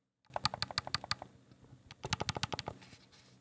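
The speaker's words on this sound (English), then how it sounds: "Mouse click back buttons." Two quick bursts of crisp, light mouse-style clicks from the back buttons of a Turtle Beach Stealth Ultra controller, in fast rhythm, close and quiet, separated by a short pause.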